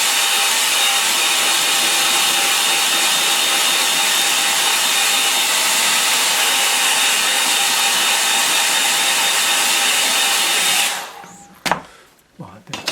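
A hair dryer blows steadily and loudly over a painting for about eleven seconds, then cuts off, leaving a few faint handling knocks and rustles.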